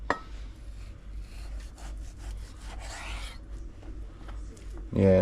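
A knife slices raw meat into thin shavings at a steady angle, giving a continuous soft rasping scrape close up that runs for several seconds, with a short louder bump at the end.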